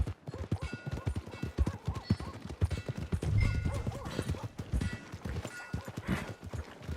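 Horse hooves clip-clopping at a steady walking rhythm, with a whinny breaking out midway, in the Red Dead Redemption 2 video game on the way to the stables; the hoofbeats are close, loud and mixed with game ambience.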